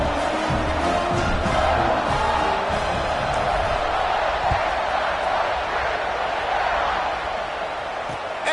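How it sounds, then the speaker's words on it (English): A stadium crowd in a college football video game roars steadily after a scoring drive, loud and continuous, with a commentator's voice talking over it. "this crowd is feeling themselves after that last drive"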